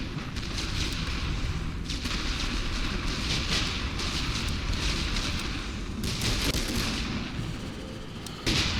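Sustained, dense rumbling artillery barrage from The Great War: Western Front, a World War I strategy game: continuous booming and crackling detonations with no clear gaps, with sharper bursts at intervals.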